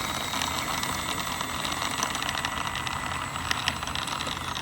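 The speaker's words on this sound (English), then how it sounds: "we've got twin 64mm 11 blade fans, which sound really, really good" Twin 64mm 11-blade electric ducted fans on an E-flite A-10 Thunderbolt II RC jet, a dense continuous whooshing whine holding steady and fairly loud throughout, with faint higher tonal lines riding over the broadband roar.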